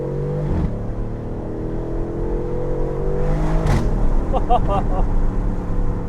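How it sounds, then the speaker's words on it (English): Aston Martin Vantage engine droning loudly and close, rising toward about 6,000 RPM, with a sharp exhaust crack on a paddle upshift midway through the steady roar. "when you upshift on those paddles, I mean, it just gives you that big crack out the exhaust"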